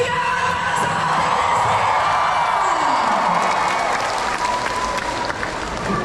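A political rally audience in Bauan, Batangas bursts into loud applause and shouting, a thick continuous roar of clapping hands and cheering voices that holds strong from start to finish.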